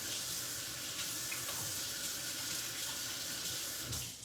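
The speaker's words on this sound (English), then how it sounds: "So let me wash my hands real quick." Kitchen tap water pours steadily while hands are washed beneath it, close and continuous, easing off at the very end.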